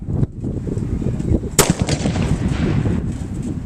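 Gunfire volley from a line of historical reenactors' weapons on command, a sharp crack followed by rumbling, crackling reports and booming echoes that linger close and loud.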